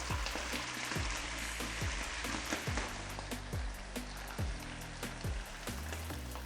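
Pieces of lamb fry in smoking-hot oil in a pan for Uyghur minestrone-style soup, making a loud, continuous sizzle close up, with regular thudding stir strokes roughly every half second throughout.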